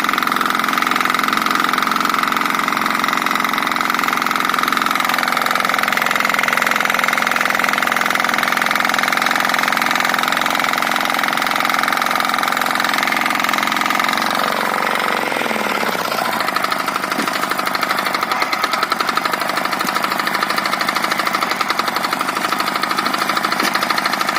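A diesel walk-behind tractor engine runs loud and steady in first gear, holding a constant rev with a dense mechanical drone, then its pitch sweeps down partway through before it settles again, with no talk over it.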